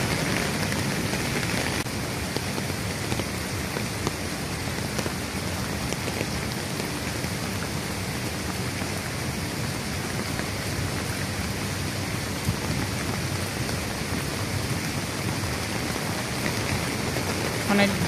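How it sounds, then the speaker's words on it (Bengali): Heavy rain pours steadily outdoors beside a large lake, a dense continuous hiss of drops striking surfaces that stays even and close throughout, with no clear voices over it. "বৃষ্টি হয়েছে, অনেক জোরে বৃষ্টি আসছে"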